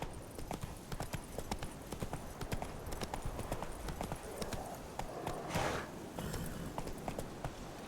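Hooves of a horse in The Witcher 3 clatter in a quick, rhythmic gallop, a steady run of close clip-clop beats with a brief rushing swell partway through.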